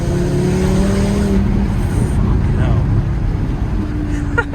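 A 400bhp Audi RS3 8P heard from inside the car while driving, its engine giving a loud, continuous rumbling drone with shifting pitch and a brief rev near the end, under people talking.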